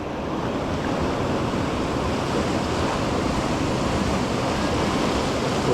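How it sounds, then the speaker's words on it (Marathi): The Dawki River in Meghalaya rushes past, a loud, dense, continuous roar of flowing water that stays even throughout, with no voices. "हे बघा हे पाणी कसं खळखळ खळखळ वाहत आहे"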